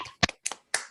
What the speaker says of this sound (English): I will ask everybody to unmute to give an applause to Julian